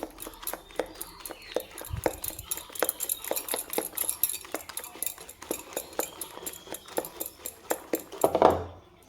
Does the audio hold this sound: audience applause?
no